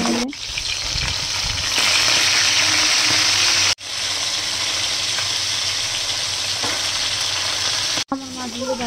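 Poa fish fry in hot oil in a pan, a loud, dense, continuous sizzle and crackle, broken twice by brief cuts, with no talking.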